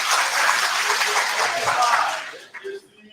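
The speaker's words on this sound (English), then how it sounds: "Please, a round of applause for you." Crowd applause and cheering at a political campaign rally for a presidential candidate in Kano State, loud and dense, then thinning out toward the end as clapping fades.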